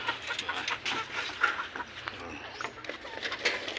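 A chicken clucks in a backyard, with a few short, moderately close calls over a steady outdoor background and no speech.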